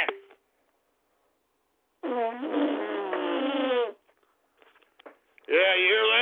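A man imitating a fart with his mouth, heard as a short burst and then two long, buzzing, wet blasts separated by silence, loud and close.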